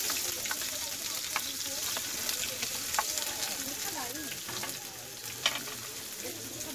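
Chopped onion sizzles and crackles in hot oil after bay leaves go in, with steady frying hiss and occasional scrapes from stirring close by; no talking.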